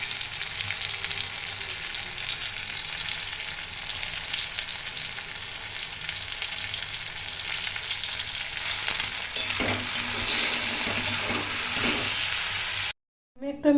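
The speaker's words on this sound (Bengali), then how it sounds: "আর একটু ব্রাউন করে ভেজে নেব এগুলো" Onions and tomatoes for dhaba-style chicken sizzle steadily in a pan, a loud continuous frying hiss with occasional stirring scrapes near the end before a short break.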